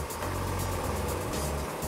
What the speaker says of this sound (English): What you hear is the table vibrating at a very low frequency